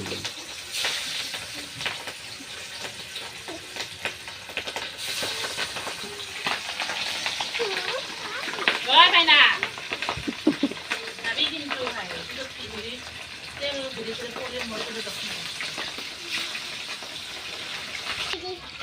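Fish frying in hot oil, a steady broadband sizzle running throughout with a brief louder burst midway, while people talk over it.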